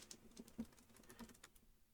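Quick, light clicks of typing on a computer keyboard come in an irregular burst of several keystrokes, faint and close, with no talking.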